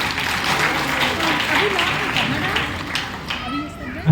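A seminar audience in Gurgaon, Haryana claps in a steady, dense patter that carries the whole stretch, fairly loud in the room, with voices faintly underneath.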